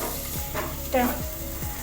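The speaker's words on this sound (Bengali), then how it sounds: "এদিকে আলু ভাজা হচ্ছে" Potatoes frying in a pan on a home stove give off a steady, close sizzle that runs throughout, with a brief louder crackle in the middle.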